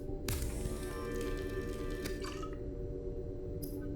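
Item crafting in the underwater survival game Subnautica, where a bladder fish is turned into a bottle of water: a burst of watery, dripping crafting effects rises near and clear and fades by two and a half seconds, ending in a brief chime.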